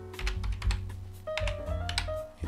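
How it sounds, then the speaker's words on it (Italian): Rapid typing on a computer keyboard while entering a website name into a search bar, a quick run of close, crisp key clicks with a brief pause midway. "Nella barra di ricerca digitiamo Mio TV."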